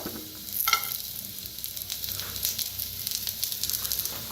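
Onion and grated coconut fry in hot oil in a pan, giving a steady close sizzle with crackling pops and a few sharp bursts as the pieces are stirred, with no voices.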